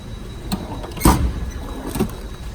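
A toolbox drawer slides open with a brief rolling scrape and a firmer knock partway through, followed by a softer second bump, all fairly close in a quiet room.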